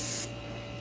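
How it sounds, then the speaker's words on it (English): Short hiss of an airbrush or spray onto a Claybord rose painting, a bright burst that cuts off quickly and leaves a low steady hum of the equipment. "And I could spray it even darker, more saturated, more second coating it."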